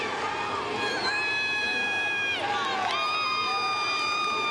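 Crowd in the stands at the 2010 CrossFit Games cheering on a competitor during the Amanda workout, a steady wash of shouts and whistles with a few voices rising loudly above the din.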